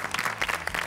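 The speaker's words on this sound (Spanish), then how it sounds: "Un aplauso más." A game show studio audience applauds in a short burst, a dense clatter of many hands, fairly loud and steady.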